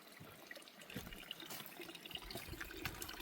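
Water drips and trickles slowly from a partly buried pipe at a trail shelter on the Appalachian Trail, soft close splashes and drops, faint and irregular.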